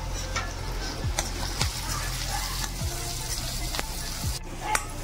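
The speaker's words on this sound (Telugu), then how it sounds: "ఈ విధంగా ఆనియన్ మగ్గుతున్నప్పుడే మనం ఇందులో కొద్దిగా అల్లం వెల్లుల్లి పేస్ట్ కూడా వేసుకుందాం." Onions sauté in a pan with ginger garlic paste for a capsicum curry, with a steady close sizzle and occasional clinks and scrapes of a stirring spoon.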